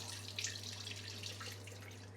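Water pours and splashes as soaked basmati rice is drained in a kitchen, a short, soft trickling rush over a steady low hum.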